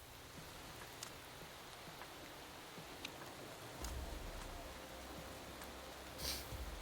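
Rain patters steadily during a practice session in the racing management game Motorsport Manager, a soft even hiss with faint drops and a low rumble swelling partway through.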